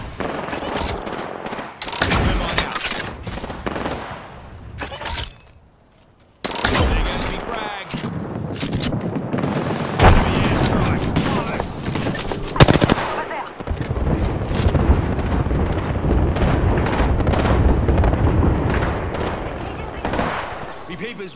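Gunfire in the video game Apex Legends, with loud rapid bursts and sustained automatic fire, a brief pause midway, then continuous shooting alongside voices.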